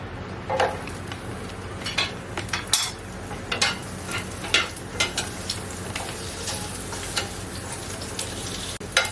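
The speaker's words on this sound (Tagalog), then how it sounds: "magigisa na tayo ng sibuyas" Onions sautéing in a pan give a steady, close sizzle, broken by repeated scrapes and clinks of a utensil against the metal.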